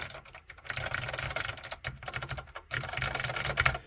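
Typing on an Ortek Mac-105 keyboard with Alps SKCM White switches, a fast, close run of crisp key clacks in bursts with short pauses, no voices.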